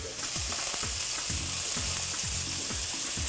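Butter sizzles in a hot pan around filet mignon, a bright steady crackle with low scraping strokes repeating at a regular pace, near and alone without voices.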